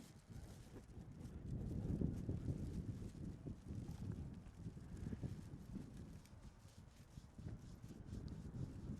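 Wind buffets the microphone at a high school junior varsity football field, making a continuous low rumbling roar that swells and eases in gusts, loud and close, with no clear voices.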